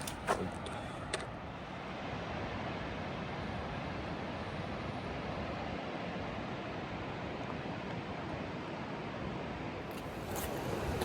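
Water flows steadily beside the Appalachian Trail near Hot Springs, a continuous broadband rush filling the scene with a couple of faint clicks at the start.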